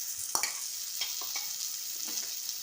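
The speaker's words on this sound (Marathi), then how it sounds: "ते पण ह्या कांदा आणि टोमॅटोमध्ये चांगलं परतून घ्यायचं" A ground paste of coconut, garlic, chilli and cumin sautés with onion and tomato for a crab masala, giving a low, steady sizzle with a few soft stirring scrapes and clicks.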